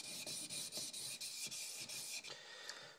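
A laminated knife blade drawn across a sharpening stone in even, rhythmic passes, about a dozen quick faint rasping strokes, each one separated by a brief pause.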